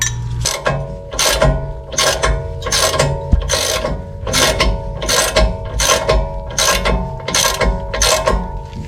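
A wrench ratcheting on a bolt to press the rear brake rotor off a 2021 Ford Ranger 4X4, loud close clicking bursts repeating in a steady rhythm of about one stroke per second.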